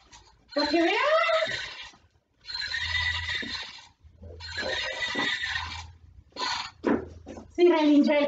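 A person's voice imitates a horse neighing, with several drawn-out whinnying calls broken by short pauses. They are loud and close, and a few other short vocal sounds come near the end.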